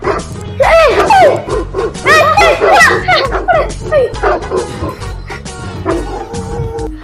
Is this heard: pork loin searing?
no